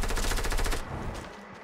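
Rapid automatic gunfire in the video game Fortnite, a fast, dense burst of shots that breaks off partway through and leaves quieter game noise, loud and alone without voices.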